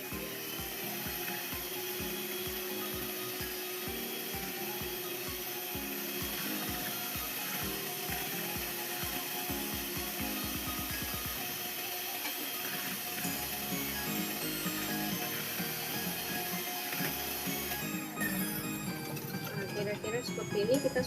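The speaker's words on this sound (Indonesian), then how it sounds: "di sini kita mau mix pakai mixer" Electric hand mixer whirring steadily through a vegetarian cake batter made with vanilla extract, a continuous mechanical drone running throughout at close range without pause.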